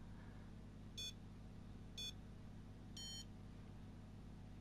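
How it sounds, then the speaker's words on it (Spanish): Three short electronic beeps sound at one-second intervals, the last slightly longer, faint over a steady low background hum. "al tercer pitido te está dando la contracción"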